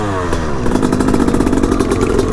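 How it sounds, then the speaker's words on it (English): Motorcycle engine loading up while being ridden on rough ground, a loud, close, rough, uneven mid-range drone with choppy pulsing and clattery revving that steadies slightly after the first half second. "The bike keeps loading up on me, too."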